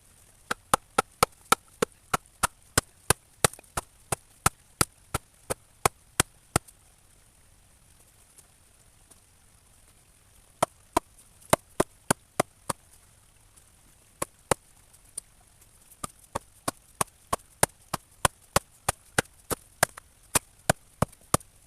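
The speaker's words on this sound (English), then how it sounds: "I'm going to try hammering those first two in" Sharp wooden knocks as sycamore stakes are hammered into a river bank, steady bursts, a quick run of blows, a pause, then more rapid strikes, close and crisp.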